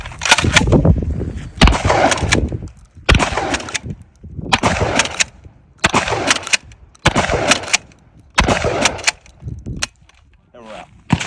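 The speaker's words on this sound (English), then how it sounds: "So I have buckshots in here, and we're about to shoot steel." A Smith and Wesson M&P12 pump shotgun fires buckshot at steel targets outdoors: about nine loud, sharp blasts roughly a second apart, each with a brief ringing tail.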